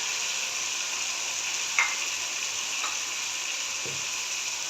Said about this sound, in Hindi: दरमियानी आंच पे ज़रा भून लेती हूँ प्याज को अच्छे से